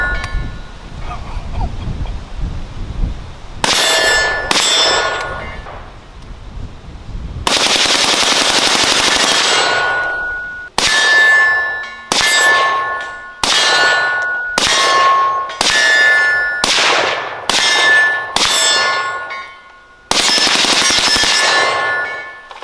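Repeated sharp metallic clicks and clangs from an AR-15 style rifle with a Tommy Trigger selector kit and Graves Alamo-15 forced-reset trigger being dry-fired, loud close snaps in irregular bursts separated by short quiet gaps.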